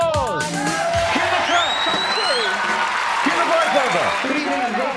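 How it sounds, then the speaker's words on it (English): A TV studio audience cheers and claps for the July 1986 Top of the Pops show in London, a dense sustained roar of applause, whoops and yells close to the microphone throughout. "Cue applause."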